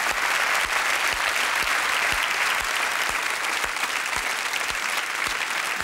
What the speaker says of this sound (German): Riesen Applaus für Holland.